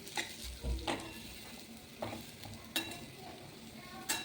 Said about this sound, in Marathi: तर हे पूर्ण असं बारीक गॅसवरती भाजून घ्यायचं आहे.